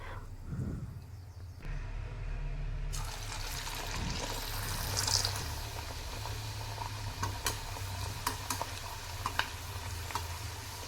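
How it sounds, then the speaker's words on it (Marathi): Steady hiss and crackle of puris frying in hot oil over high gas flame, with occasional sharper pops and clinks of a utensil over a continuous sizzle. "पुरी तळताना गॅस लहान नको नाही तर मग पुऱ्या तेलकट पण होतात"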